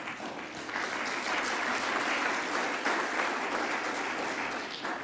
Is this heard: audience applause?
yes